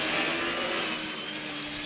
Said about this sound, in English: Second pass coming on the apex of the Yamaha four-stroke.